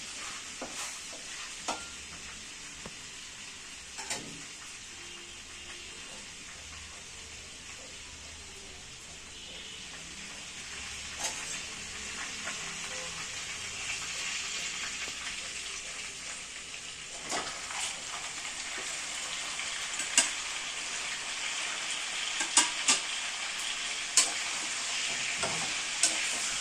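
Whole cardamom, black pepper and cloves fry in oil for a Delhi Mughal-style chicken qorma. A soft, steady sizzle continues throughout, punctuated by scattered sharp crackles and pops that grow slightly louder toward the end.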